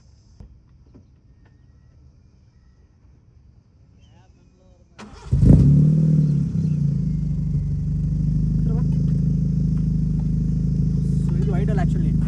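After a quiet stretch with faint clicks, a Honda City Type 2 engine cranks and fires up with a loud roar. It then settles into a steady, throaty idle through the exhaust.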